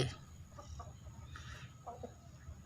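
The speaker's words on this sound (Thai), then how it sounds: "ไก่" Soft chicken clucks come in scattered bursts over a low, steady background hum, fairly quiet and close.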